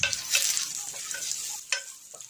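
Ginger shreds and dried chili frying in hot oil in a wok over high heat, a close, bright sizzle with quick stirring scrapes and bursts of crackle, no voices.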